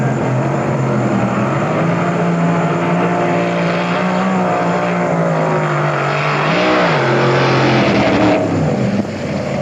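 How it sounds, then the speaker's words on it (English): A vintage hot rod drag car spins its tires at launch at the 1994 Hot Rod Reunion in Bakersfield, California. Its engine roars loud and sustained, with the pitch swelling briefly before it eases off. "he stages up and he spins the tires"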